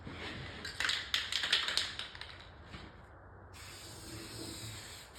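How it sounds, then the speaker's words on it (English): A spray can of clear coat hisses in a steady burst after a run of sharp clicks and taps, close and fairly quiet, while refinishing an arcade machine control panel. "Try to spray in even lines."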